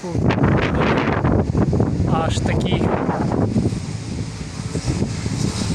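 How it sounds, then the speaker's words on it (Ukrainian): Steady wind ahead of an approaching thunderstorm in Chernivtsi blows and buffets the microphone with a constant rushing roar, while a person talks over it for most of the clip. "Просто миттю вітер звіявся."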